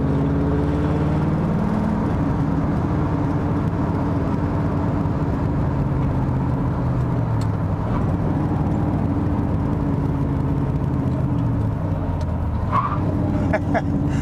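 A 1965 Chevrolet Corvette C2 StingRay with a big-block V8 and a Tremec 5-speed, heard from inside while driving: a loud, steady engine drone with rising and falling pitch through gear changes and road noise underneath, with some low talk.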